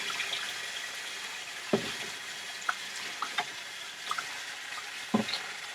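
Water rinses a motorcycle exhaust pipe after rust removal with steel wool: a faint, steady trickle and hiss broken by a few sharp knocks and taps, with no one speaking.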